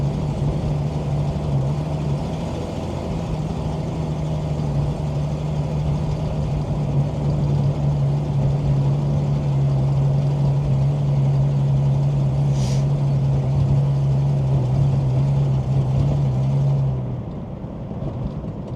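Interior sound of a 1966 Ford Mustang Coupe driving on a rough town road, a loud continuous engine drone with a steady low tone and road rumble that drops off near the end.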